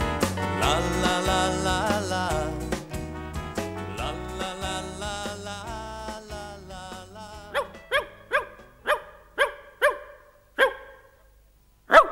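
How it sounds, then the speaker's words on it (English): A dog barks over and over, loud and close, with rapid barks piling up at first and then spaced single barks trailing off. "Who's that barking?"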